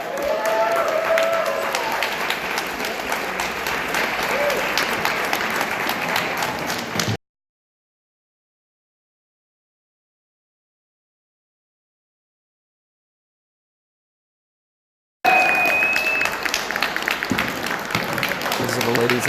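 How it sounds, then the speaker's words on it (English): Audience applause at a horror convention panel, sustained crowd clapping mixed with chatter and voices, cut off by a long stretch of silence before the clapping and talk resume. "let's give them one more round of applause."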